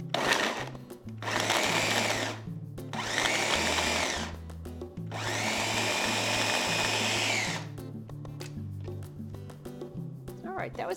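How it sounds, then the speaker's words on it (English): A double-blade food processor grinds meat in loud, close bursts, several pulses of whirring motor separated by short pauses, with a voice talking between and under them. "The double blades in this machine really help to grind it up evenly."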